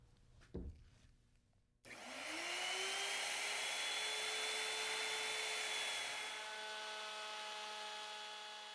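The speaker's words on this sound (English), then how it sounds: "As the bearing glides along the finished edge of the table, the bit produces a clean 30-degree bevel around the bottom edge." A bearing-guided router bit cuts a 30-degree bevel along the bottom edge of a round wooden dining tabletop, starting after a knock with a rising motor whine that settles into a loud sustained cutting roar, then eases slightly.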